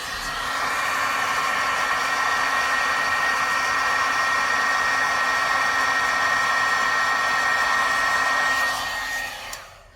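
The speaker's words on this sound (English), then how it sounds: "I'm just going to grab my heat tool and we'll heat set that really quickly" A heat tool runs steadily for about nine seconds, melting embossing powder in an alcohol ink craft project, its loud, even fan whoosh and motor whine holding without a break before cutting off near the end, with no talking.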